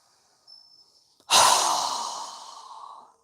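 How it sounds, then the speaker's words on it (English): During a yoga breathing exercise, a strong, forceful exhale rushes out through a wide-open mouth, loud and close. It tapers off slowly after a faint breath just before it. "our mouth open wide with a very strong exhale"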